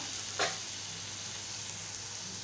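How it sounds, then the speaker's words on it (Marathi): Fenugreek leaves (methi bhaji) sizzle steadily as they are stir-fried in a pan, with one brief scrape or stir near the start; no talking. "भाजी एकदा परतून घेत आहे"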